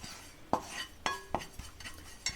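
A few sharp metallic clinks and taps of a spoon against a pan, spaced irregularly, as ajwain seeds are dry-roasted over low flame in a quiet kitchen.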